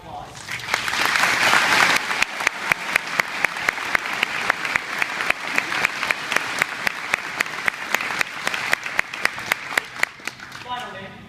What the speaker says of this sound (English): Please give these remarkable accomplishments a round of applause